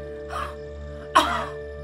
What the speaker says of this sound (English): Then do a cough forcefully